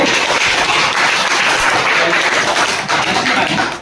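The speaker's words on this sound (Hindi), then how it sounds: "एक बार ये के लिए फिर से ताली बजाइए।" Government-school children clap together in a classroom, producing a loud, dense wash of many small hands that holds steady for several seconds before tapering off at the end.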